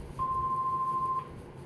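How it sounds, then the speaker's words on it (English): Answering machine message tone: a single clean, steady beep lasting about a second over quiet room hiss. "Please leave a message after the tone."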